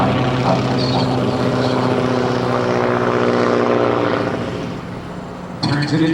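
John Mohr's aerobatic propeller airplane at a 2008 Blue Angels homecoming airshow gives a loud, steady engine drone that sags slightly, then surges back with a sudden lift in tone near the end.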